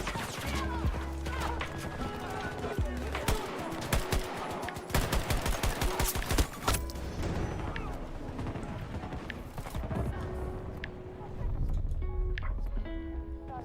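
Gunfire from a Battlefield 2042 match, dense bursts of sharp shots and impacts with crashes, fading to scattered reports, while a player's voice talks over the action.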